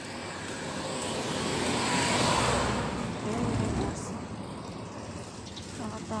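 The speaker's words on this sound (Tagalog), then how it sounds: "daming sasakyan dito eh" Road traffic passes near a village exit, a broad wash of vehicle noise that swells as something loud goes by in the middle and then eases, heard from the roadside on foot with voices talking around it.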